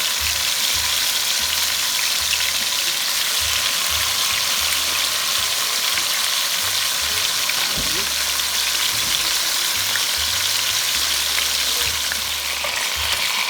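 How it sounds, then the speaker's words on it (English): Continuous close sizzle and crackle of chicken pieces frying in hot oil for Jamaican stew chicken, with occasional low bumps and a brief scrape, no talk. "look how beautiful these chickens frying up"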